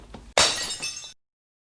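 The walls of Jericho collapse in a sharp, loud crash with a crumbling, shattering texture that tails off within about a second, then silence.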